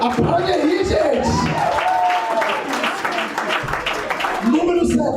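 An audience at a church conference claps steadily in sustained applause with some cheering, while someone talks loudly over it throughout.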